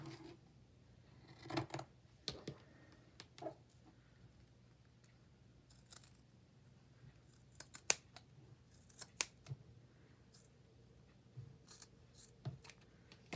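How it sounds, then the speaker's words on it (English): Scissors trim excess fabric lace in a quiet craft setting, giving a scattered series of crisp, close snips with short pauses between cuts. "We gotta trim off all these extra pieces."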